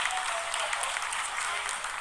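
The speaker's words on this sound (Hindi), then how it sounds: "Lot of applause indicates that till now the performance has been nominal." Loud, continuous applause from scientists in the ISRO control room during the Chandrayaan-3 lunar landing, a dense burst of many hands clapping close by with a faint crowd murmur underneath.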